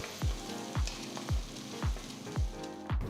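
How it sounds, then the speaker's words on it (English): Chopped garlic, ginger and thinly sliced onion sauté in oil in a wide wok with a steady close sizzle, punctuated by six evenly spaced low thumps of stirring or tossing, about two each second. "Saute the ingredients for about 2 minutes"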